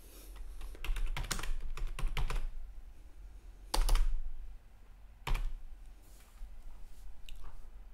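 Typing on a computer keyboard while setting up a project folder in Visual Studio Code: bursts of clicky keystrokes in quick clusters separated by pauses, close and fairly quiet, with no talking.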